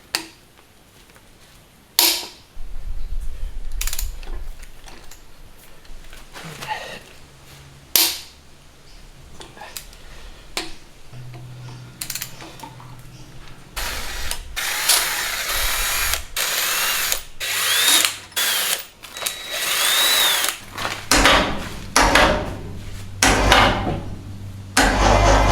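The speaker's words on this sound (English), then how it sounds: "we're about to take the head bolts out" Power tool loosening the cylinder head bolts on a Toyota 1HZ diesel engine during a rebuild, with repeated sharp impact bursts and ratcheting clatter in short, separated runs, close and loud in a workshop.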